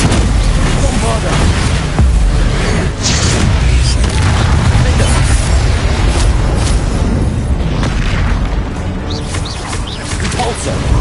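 Spell combat in Hogwarts Legacy with a Bombarda blast, booming explosive impacts and crashes running continuously and loud throughout, layered with dense game effects and some speech.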